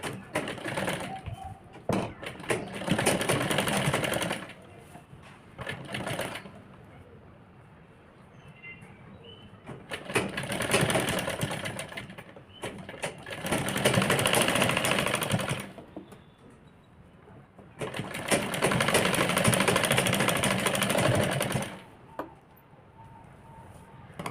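A sewing machine stitching a seam on a girl's crop top, four long loud runs of rapid rattling stitches, each broken by short quiet pauses.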